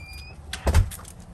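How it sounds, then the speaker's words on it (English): A door opens with a brief dull thump and clack in the middle of an otherwise quiet moment, heard close and alone. "Did you just open the door?"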